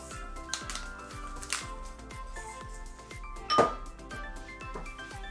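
Plates and cutlery clinking while cloud eggs are plated up: scattered light chinks and taps of dishware, with one brighter clatter midway, over soft background music.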